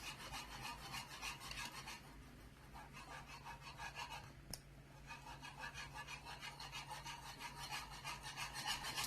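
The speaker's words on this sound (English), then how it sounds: "just keep stirring vigorously to avoid lumps" Whisk scraping and stirring briskly through thickening custard in a pot for pasteis de nata, a quiet, rhythmic rubbing that continues steadily, heard close with no talk.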